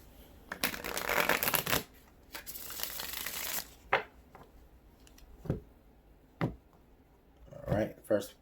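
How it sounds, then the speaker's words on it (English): Tarot cards are riffled and shuffled in two long, crisp rustling bursts, followed by a few sharp taps as the deck is squared up. It is close and fairly quiet. "Spirit is telling me one more shuffle,"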